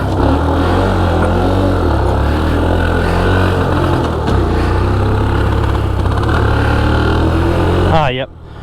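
A Suzuki GAG 50 motorcycle engine revs loud and close throughout a ride, a steady buzzing drone with small dips, cutting off abruptly near the end.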